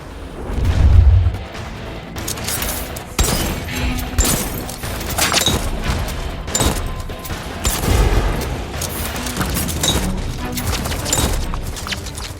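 Bursts of gunfire, booms and heavy weapon blasts from a video game, loud and continuous over about twelve seconds with a strong low thump near the start and repeated sharp shots throughout.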